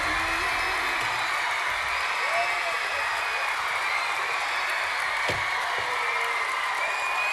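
Loud, sustained audience applause and cheering fill a large hall at the Macedonian Idol finale as the first winner, Ivan, is announced, a steady roar of clapping with occasional whoops throughout.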